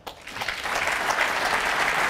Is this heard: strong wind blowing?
no